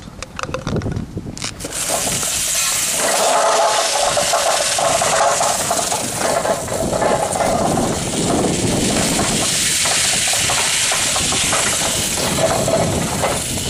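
Steel shot collected by a Bluestreak continuous-discharge magnetic sweeper pours out of its bin in a loud, dense metallic rush, a steady hissing cascade that starts abruptly and keeps going at full strength, close up with no talk.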